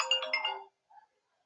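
Tail end of a phone ringtone from an incoming call: a short melodic electronic burst that stops, followed by a faint brief tone and then quiet.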